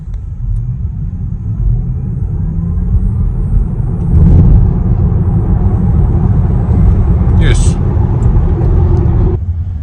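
Tesla Model Y Juniper accelerating hard from 0 to 100 km/h: a continuous low road rumble that swells over about ten seconds, with faint whining tones and some muffled voices.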